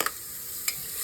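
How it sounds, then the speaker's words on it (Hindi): Vegetables sautéing gently in ghee over a low flame, a soft steady sizzle with a few brief stirring scrapes, close and quiet with no one talking. "सब कुछ हल्का हल्का स्लो गैस पे सेक लेंगे।"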